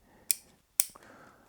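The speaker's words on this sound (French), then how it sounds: "Je me suis muni de ma paire de ciseaux, je vais enlever des feuillages qui sont situés vers le bas" Small pair of scissors trimming lower foliage on a cypress shohin bonsai, two crisp close snips about half a second apart over faint rustling of leaves.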